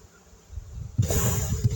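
Honeybees buzzing as a frame is shaken over the hive while packing the nest for winter, a dense, loud swarm hum that swells after a brief quiet start and continues with busy low flutter.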